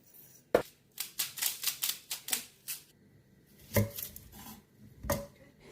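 A knife chopping an onion on a board for ratatouille: a quick run of crisp, close taps, then a pause and a few isolated cuts, faint and without talk.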